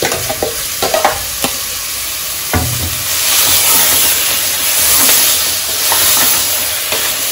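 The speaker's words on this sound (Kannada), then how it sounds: "ನಾನು ಈ ಖಾರ ಹಾಕೋತಾ ಇದ್ದೀನಿ ರುಬ್ಬಿರೋದು." Ground spice paste added to a pot of mixed vegetable sambar, with spoon knocks and scraping at first, then a loud, sustained sizzle and hiss that swells and fades in waves.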